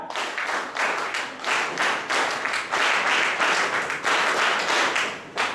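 An audience at a closing ceremony of a de-addiction camp claps steadily in rippling bursts, dense and near, continuing without speech for several seconds.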